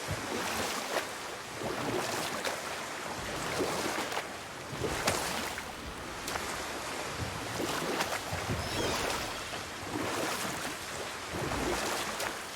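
In the video game God of War, rhythmic splashing strokes of oars pull a boat through water every couple of seconds, over a soft, steady wash of waves.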